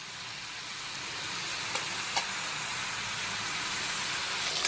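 Ridge gourd sautéing with spices in a pan over medium-high heat gives off a steady, even sizzle that holds throughout, with a couple of faint clicks and no voices.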